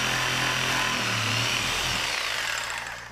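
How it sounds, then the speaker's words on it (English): A belt sander smooths a cut wooden mold for a playing card holder, a loud steady motor whine with broadband grinding that holds constant for three seconds before easing slightly at the end. "Belt sander makes fast work of taking out any imperfections or saw blade marks in the mold."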